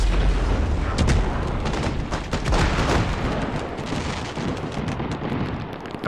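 An exploding fireworks store in a video game sends out a sustained, loud barrage of booms and sharp cracks that rattle on for several seconds without pause.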